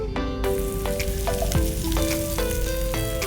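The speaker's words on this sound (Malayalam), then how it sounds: "ഇനി നമുക്ക് എണ്ണ ചൂടായതിനു ശേഷം നമുക്കിത് ഫ്രൈ ചെയ്തെടുക്കാം." Chicken sizzles steadily in hot oil with whole curry-leaf sprigs for a street-stall style fry, a constant crackle running beneath background music.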